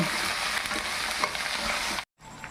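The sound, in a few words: green chillies frying in tempering oil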